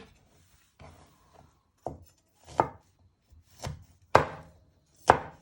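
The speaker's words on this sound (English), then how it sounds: "We're first slicing it. Then we turn it around. And then we just finally dicing it into little pieces." Sharp knife chopping garlic on a cutting board: a handful of separate cuts that start as light taps and build to harder, crisp chops, close and loud, with no talking.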